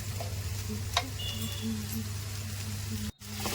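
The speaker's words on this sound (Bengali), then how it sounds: "মশলার সঙ্গে হালকা কষিয়ে নিব গাজর ক্যাপসিকাম" Carrot and capsicum frying with spices in a pan, a soft, low sizzle with a faint click or two and a brief dropout near the end, fairly quiet and without speech.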